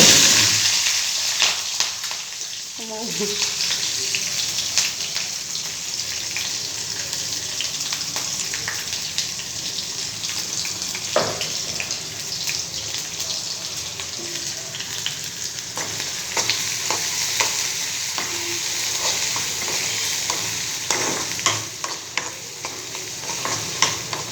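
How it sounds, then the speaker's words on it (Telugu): Onions and green chillies fry in hot oil in a pan, a steady crackling sizzle throughout, broken by occasional scraping and clinking as the mixture is stirred. "దీని మీద ఫ్రై అవ్వనిద్దాం."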